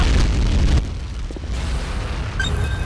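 A heavy boom as the TDI harvester blows up in Renegade, a loud low rumble that decays into a quieter tail, followed by a faint high electronic tone.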